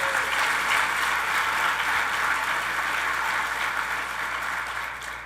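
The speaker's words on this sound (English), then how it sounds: "Give them a big round of applause" Sustained applause for Phoenix city council members at the mayor's 2017 State of the City address, a steady wash of many hands clapping from a large audience that gradually tapers toward the end.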